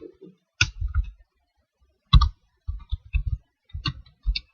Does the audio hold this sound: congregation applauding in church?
no